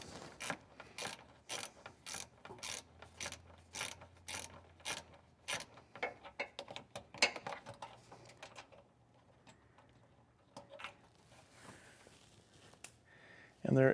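Rapid ratcheting clicks from a socket wrench loosening bolts on a Ford Transit front bumper, a steady burst of close, even clicks at first, then sparser mechanical clicks and clatter, with some faint talk.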